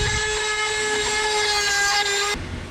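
A rotary tool fitted with a burr grinds rust off metal during a wooden boat restoration. It gives a steady, loud, high-pitched whine that runs continuously and then cuts off abruptly just before the end.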